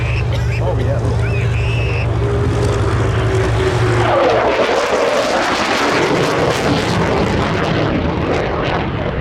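A Hawker Typhoon warbird flying at the RAF Cosford Airshow 2024, its loud engine droning steadily before surging and sweeping past close by, with an announcer talking over it.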